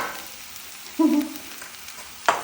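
Ridge gourd pieces dropped into a hot pan give a short burst of sizzling and frying near the middle, quieting to a faint hiss, then a brief clatter of stirring; no one speaks.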